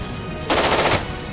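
Burst of automatic gunfire in the video game Jagged Alliance 2, a loud rapid volley lasting about half a second over quiet background ambience.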